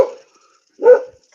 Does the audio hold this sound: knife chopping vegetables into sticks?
no